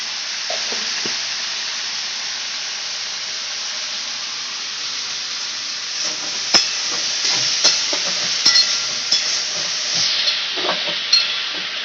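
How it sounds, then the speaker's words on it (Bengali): Potato and okra curry frying in a home kitchen for dinner: a steady hiss of sizzling oil runs throughout, with scattered clinks and scrapes of stirring growing busier toward the end, and no one talking. "মা রাত্রিরে ডিনার প্রিপারেশান করছে হচ্ছে আলু ঢ্যাঁড়সের তরকারি"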